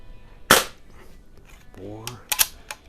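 A Crosman 2240 air pistol built as a Buck Rail carbine fires one sharp, loud crack at a 7-yard range, followed later by a voice and a couple of faint clicks.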